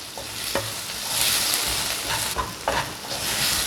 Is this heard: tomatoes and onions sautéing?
yes